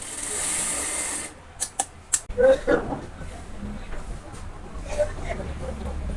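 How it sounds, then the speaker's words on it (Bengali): A sewing machine stitches a half-inch folded fabric hem on pajama trousers, with a few quick mechanical bursts of stitching between quieter stretches of low hum and rustling. "এখানে লেস লাগানো হবে, এই জন্য 1/2 ইঞ্চি পরিমাণ কাপড় সোজা করে ভাঁজ করে সেলাই করে নিচ্ছি।"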